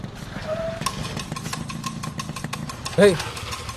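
A motorcycle with a fault idles and putters steadily nearby, with a brief voice breaking in near the end.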